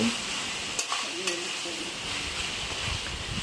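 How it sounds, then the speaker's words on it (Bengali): Fried amaranth greens (note shak) with peanuts and bori being stirred together in a pan, a continuous close sizzle with soft scraping strokes, no speech over it. "এখন আবার সমস্ত কিছু একসঙ্গে কিছুক্ষণ নেড়ে চেড়ে নিচ্ছি"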